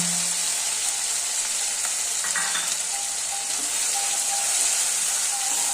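Tomato paste sizzles in spice masala for a rohu fish kalia, a loud, even, continuous frying hiss close by with faint stirring and no talk.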